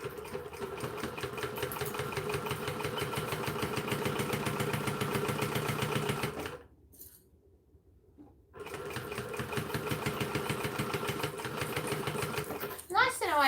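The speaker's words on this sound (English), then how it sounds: "I get to do more sewing on the machine." A new sewing machine stitching fabric in rapid, steady mechanical bursts, stopping briefly midway before running again, with a short sharp rattle at the end.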